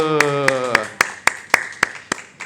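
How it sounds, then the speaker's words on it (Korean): A small church group clapping after a Bible lesson, about nine distinct claps in a roughly even rhythm that rise in loudness, following a brief sung or spoken tone at the start. "와, 박수."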